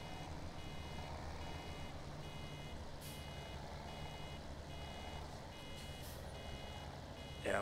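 A baler in the farming video game Farming Simulator 17 sounds a steady repeating warning beep over a low engine drone, continuous and fairly close throughout.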